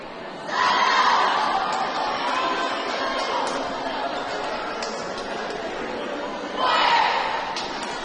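A cheering section at a high school volleyball match shouts and chants in bursts, swelling loudly near the start and again toward the end over a constant gym crowd murmur, with an announcer talking.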